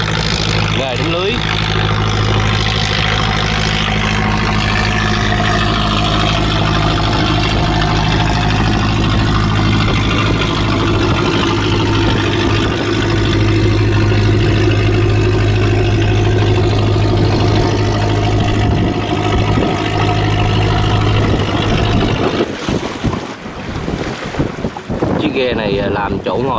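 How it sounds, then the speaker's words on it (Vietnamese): Fishing net boats head into the Duong Dong river mouth from the sea, their engines droning steadily and loudly under heavy wind noise, and the engine drone drops away near the end. "Đánh lưới luôn. Ghe đánh lưới."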